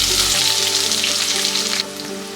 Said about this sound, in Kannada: ಇದನ್ನೆಲ್ಲ ಇದೇ ರೀತಿ ಒಂದು 30 ಸೆಕೆಂಡ್ ಅಷ್ಟು ಹುರ್ಕೊಳ್ಳೋಣ